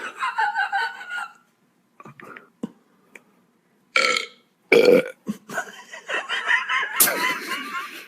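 Loud close burps in a backyard burping contest, several separate belches spread across the clip, with brief murmurs, whispering and a snicker between them.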